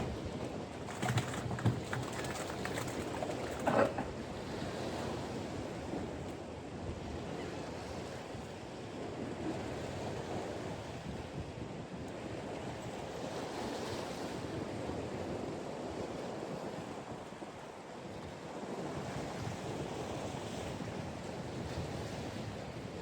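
Wind gusts and surf wash steadily along an overcast seaside, a continuous rushing roar with occasional buffeting against the microphone.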